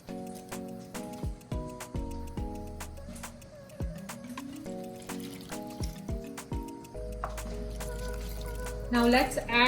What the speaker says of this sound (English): Now let's add all the ingredients that I mentioned to an oven-safe dish.